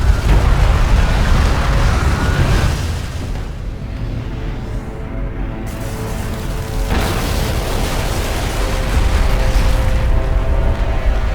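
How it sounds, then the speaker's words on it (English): A Gaalsien support cruiser blowing up in the video game Homeworld: Deserts of Kharak, a loud sustained rumbling explosion with a second heavy surge partway through, deep booming roar filling the whole stretch. "Gaalsien support cruiser destroyed."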